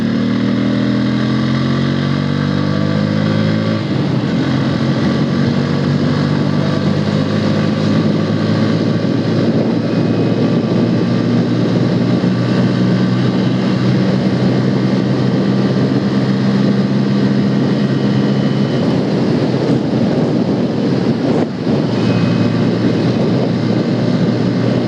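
Loud, constant engine roar and wind rush from a motorbike being ridden, with a tonal engine note shifting in pitch as speed changes, continuous for the whole stretch.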